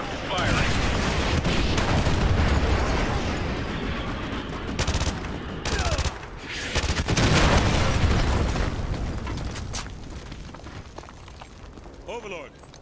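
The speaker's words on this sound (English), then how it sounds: "Use your laser designated to call in artillery on those vehicles" Artillery strike explosions in Modern Warfare 2 Remastered: heavy booms and rolling blasts mixed with rapid gunfire, loud and sustained, with a voice talking over the battle.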